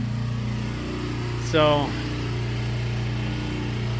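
A tractor engine idles steadily and close by, its low rumble running unbroken throughout, while someone says a word over it partway through.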